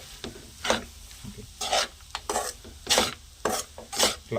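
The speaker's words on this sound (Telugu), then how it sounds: "స్టవ్ కట్టేయకుండా సిమ్లో పెట్టేసి రెండు నిమిషాలు ఇలా తిప్పుతూ ఉంటాయి" Poha (flattened rice) is stirred around a pan over a low flame for atukula pulihora, giving repeated scraping, rustling strokes in an uneven rhythm, close and fairly loud, with a soft sizzle beneath and no speech.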